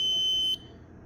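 A Smith's Medical Level 1 Hotline fluid warmer sounds a loud, steady high-pitched alarm tone that cuts off abruptly after about half a second, leaving a low hum.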